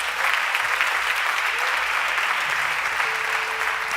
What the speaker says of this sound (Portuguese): Quero que você aplaude a Deus.